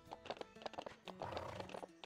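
Horse hooves clip-clop in quick rhythmic steps in Ranch of Rivershine, with a whinny rising midway. The sound is quiet and close, and no one talks.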